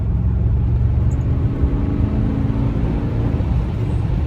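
Mercedes-Benz W124 E420 sedan engine under steady acceleration, a loud continuous low rumble and whir with an early gear change, heard from inside the car without talk.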